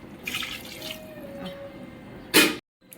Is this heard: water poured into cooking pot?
yes